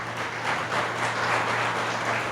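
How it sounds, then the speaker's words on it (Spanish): Church congregation clapping in praise during a Spanish-language sermon, a steady, moderately distant patter of many hands over a low constant hum, continuing evenly without speech. "Dale un aplauso al Señor, hermano."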